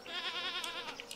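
A goat in Stardew Valley gives one sustained, wavering bleat lasting about a second, with a few small clicks near the end, set against a quiet game background.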